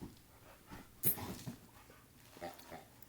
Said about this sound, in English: See, she's a smart dog.